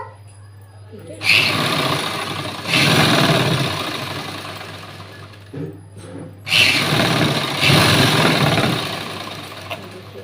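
A sewing machine stitches a blouse panel in two long bursts of fast, loud mechanical whirring, separated by brief pauses, with a constant low hum running underneath throughout.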